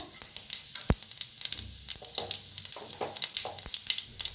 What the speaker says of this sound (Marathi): तेल गरम झालं तिच्यात टाकूया जिरं मोहरी